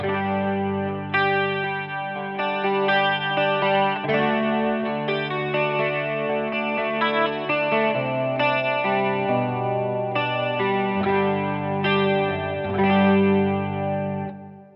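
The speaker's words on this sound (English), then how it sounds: "This works great as a standalone chorus, so when you're playing just shimmery cleans" Clean electric guitar chords and arpeggios shimmer through an analog chorus pedal with a warm, wavering effect, playing steadily with no voices.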